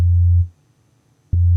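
A pure, steady low sine tone from an analog oscillator in the UVI Falcon software synth plays loud and clean, cuts off briefly, then sounds again, with no voice over it.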